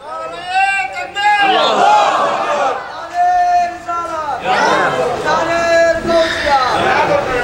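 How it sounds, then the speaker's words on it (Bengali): A large crowd at an outdoor religious gathering shouts slogans in unison with hands raised, loud rhythmic chanting in repeated waves, each call answered by a massed roar of many voices. "দুহাত উঁচু করে স্লোগান দিয়ে আল্লাহরে দেখান"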